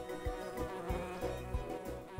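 A cartoon bee buzzes in the Nature Cat pollinator video game, a steady, fairly quiet droning hum with rhythmic swells roughly every third of a second, heard alone without voices.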